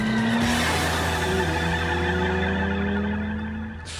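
A Noble sports car drives hard with a sustained engine drone and tyres squealing in a skid, loud and close, fading slightly at the end, with no voices.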